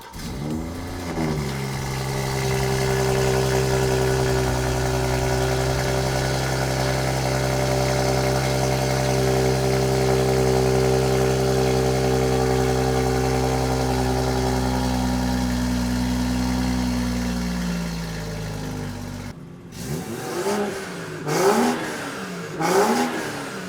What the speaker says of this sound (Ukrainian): Зараз послухаємо холодний старт